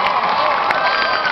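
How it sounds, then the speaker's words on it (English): A live audience at a pie-eating event applauds and cheers, a short burst of dense clapping mixed with crowd noise and shouts, fairly loud and continuous. "Give her a round of applause."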